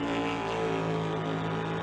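A 1988 Fox-bodied Ford Mustang and a 1989 Fox-bodied Mustang idle loudly at a drag strip, a steady, rumbling engine drone holding constant with no break.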